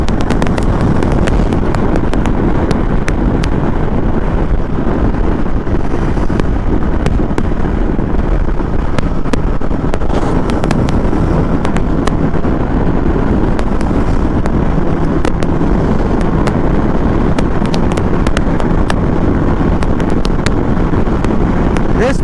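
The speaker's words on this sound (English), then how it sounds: "So now enjoying the ride back home on this beautiful Versys." Riding a Kawasaki Versys 650 motorcycle: loud, constant wind buffeting the microphone with engine and road rumble underneath, unbroken for the whole stretch.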